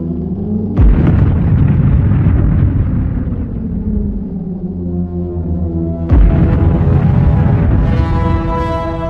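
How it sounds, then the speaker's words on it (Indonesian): Two massive Big Bang explosion effects roll out as deep, loud booms, each with a sharp onset followed by a long rumbling decay. "peristiwa ledakan mahadahsyat atau yang bisa disebut dengan Big Bang"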